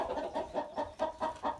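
A hen in a chicken coop clucks and hollers in a quick rhythmic series of about seven close, loud calls with no talking.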